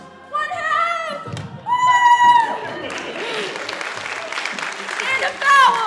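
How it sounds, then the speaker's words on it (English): A crowd cheering and applauding at a basketball game just after a long-distance shot and a win for the Monarchs: bursts of clapping and shouts swell and fade, loud and close, with an announcer-like voice rising over the noise. "The crowd goes wild!"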